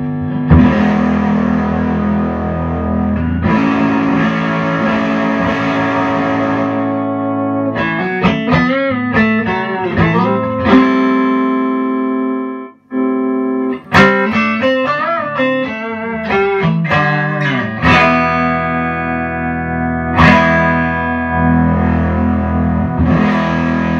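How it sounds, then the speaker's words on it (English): Heavily distorted electric guitar played through a Geloso 227A valve amplifier modded for Marshall-style gain, volume at 7, loud sustained chords and riffs with thick overdrive and a brief pause midway. "we got distortion if we open the volume up to 7"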